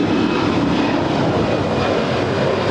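An Alaska Airlines A320 jet rolls at LAX with a loud, steady engine roar that stays constant throughout, with no voices.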